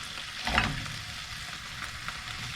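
Bacon and tomato fry in a pan on a narrowboat stove, with a soft steady sizzle and one brief louder crackle burst near the start, no voices present.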